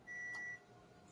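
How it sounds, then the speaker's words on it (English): A single steady electronic beep rings out alone for about half a second in a quiet room, thin and high-pitched, then cuts off, leaving faint background hiss. "What's beeping, you guys?"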